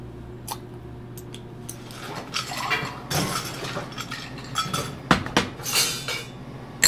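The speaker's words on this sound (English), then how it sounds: "Then I'll stir the cocktail." A scotch cocktail with citron and walnut liqueurs and house-made bitters is stirred in a mixing glass, its spoon and ice clinking and rattling close up in uneven bursts that grow sharper toward the end.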